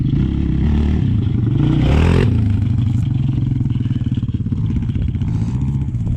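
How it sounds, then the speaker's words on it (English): A Honda TRX450R ATV being ridden nearby, its single-cylinder engine loud and throaty, revving up hard around two seconds and then settling into a rapid pulsing drone with some clattering. "Brian is riding the 450R TRX."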